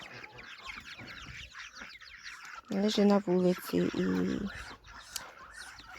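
Young chicks cluck and cheep at a farm while someone talks; a dense burst of close, pitched clucking rises mid-way for a second or two among softer background chatter.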